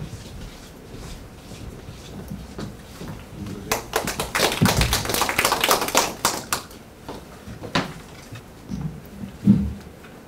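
An audience at an academic seminar claps for a presenter: a burst of dense, crackling applause swells for about three seconds midway, then gives way to scattered taps and thuds in a quiet hall.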